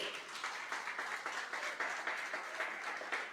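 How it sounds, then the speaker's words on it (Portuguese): A church congregation applauds during a sermon, a steady, faint, distant patter of many hands clapping throughout without a break. "Você pode aplaudir ao Senhor?"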